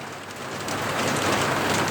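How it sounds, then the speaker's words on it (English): Heavy rain pours down close by, a dense, steady hiss that swells slightly louder as it goes on, with no voices. "the rain's coming in and it's fighting me now"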